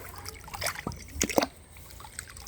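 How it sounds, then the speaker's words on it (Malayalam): Rainwater in a drum is stirred and scooped up in a few short sloshing, splashing strokes, with drips and trickles falling back between them at close range. "ഇളക്കി കോരാം."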